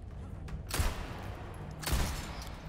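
Gunfire in a Resident Evil 4 Separate Ways boss fight, two heavy shots about a second apart, each a sharp loud blast with a thudding low end and a fading tail.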